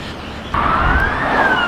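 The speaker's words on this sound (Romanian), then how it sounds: "Uitați-vă și ambulanța." Ambulance siren on a street in Malaysia, a single rising wail that starts abruptly and grows loud and close, heard alone without voices.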